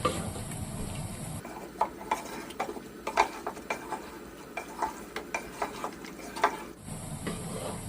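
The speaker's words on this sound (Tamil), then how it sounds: "இப்போ சிக்கன் கூட சேர்த்து நல்லா கலந்துருவோம்" Chicken is stirred into masala for chicken dum biryani, a series of clear, rhythmic spoon clinks and scrapes against the pot over a soft sizzle, with faint hiss at the start and end.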